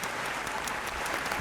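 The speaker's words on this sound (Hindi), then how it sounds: "Moving on to खुल के ताली बजाएं भाई." A short burst of dense studio-audience applause on a TV drama review show, loud and continuous with no pauses.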